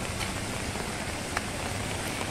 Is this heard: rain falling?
yes